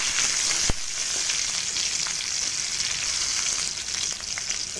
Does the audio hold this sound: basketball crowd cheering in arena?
no